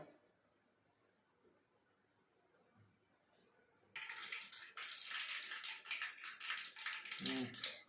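Mustard seeds spluttering in hot oil for shrimp curry, quiet at first then bursting into loud, dense crackling pops that continue steadily to the end, with faint talk early on.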